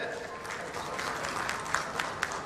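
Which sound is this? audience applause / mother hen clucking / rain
audience applause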